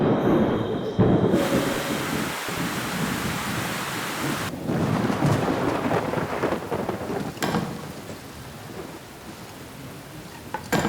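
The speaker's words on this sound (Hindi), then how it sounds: "बारिश तो रुकने का नाम ही नहीं ले रही।" Heavy rain pours down steadily while thunder rolls and cracks through a village storm, loud and close, with no voices heard.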